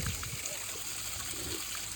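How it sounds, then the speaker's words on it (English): Fresh mountain water trickling in a small stream in Ireland, a steady close babble and splash filling the whole moment without voices. "They're fresh water from the mountains."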